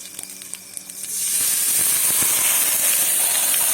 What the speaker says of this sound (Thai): เราลองเทน้ำออกไประวังนะตรงนี้ น้ำจะพุ่งออกตรงนี้